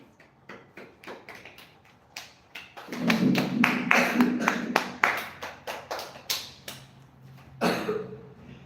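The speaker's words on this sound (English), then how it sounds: "A big clap for Sonam." An indoor audience at a public speaking and anchoring session applauds a guest named Sonam: a few scattered claps at first, then a full burst of clapping that swells, thins out, and flares once more before fading.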